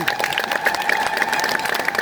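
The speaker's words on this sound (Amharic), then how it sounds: "አጨብጭቡ አስተዳዳሪዎች በደንብ።" Church administrators at an Ethiopian Orthodox church gathering clap together, producing dense, continuous group applause that stays steady for about two seconds, with a voice faintly underneath.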